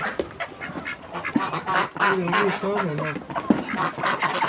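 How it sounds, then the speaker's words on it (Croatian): Several ducks quack in a busy, overlapping chorus close by, with a few honking calls mixed in. "Joj, patkice navalile."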